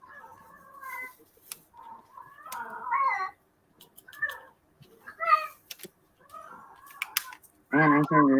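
A house cat meows repeatedly in short, fairly close cries with gaps between them, ending in a louder, drawn-out yowl.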